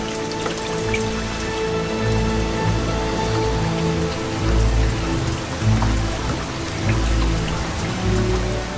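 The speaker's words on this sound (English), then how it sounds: "for many weeks the rains are relentless" Heavy, relentless midsummer rain pours down steadily along the Amur River, a dense, continuous patter of drops on surfaces, loud and close throughout, with faint low rumbles underneath.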